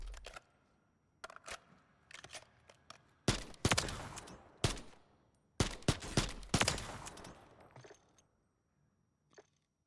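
Gunfire on bots in Call of Duty Warzone 3: several bursts of sharp cracking shots, some in quick taps and some in longer rattling strings, separated by short quiet gaps and ending with one faint shot.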